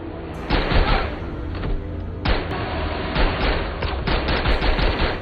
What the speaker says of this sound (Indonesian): langsung menembak ke arah tempat tidur